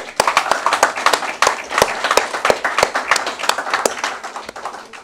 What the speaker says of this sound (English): So please take a bow and applaud yourselves.